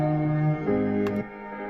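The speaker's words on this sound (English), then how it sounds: "that's the sound of the reverbs on their own" Stereo spring reverb return heard alone in an analog studio, sustained tonal chords ringing out and decaying with a splashy spring wash, fairly quiet and brief.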